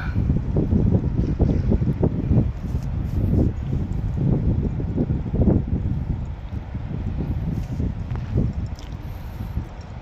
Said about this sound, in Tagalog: Kumbaga sa atin bagyo kasi ang lakas ng hangin